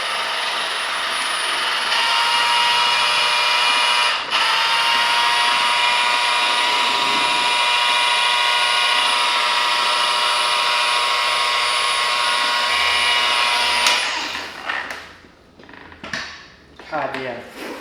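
Car paint polishing machine running steadily and loudly with a sustained whine, working on a 2015 Range Rover Sport during paint correction, then cutting out near the end.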